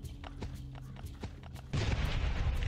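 A landmine blowing up in the survival video game Last Day on Earth: a sudden loud broadband blast that keeps roaring through the end, after a stretch of quieter low rumbling game ambience.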